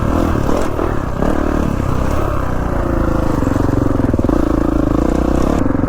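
A 2019 Kawasaki KX450F motocross bike's engine drones loud and close throughout a ride, steady with rough clattering texture and slight rises in pitch as the throttle shifts.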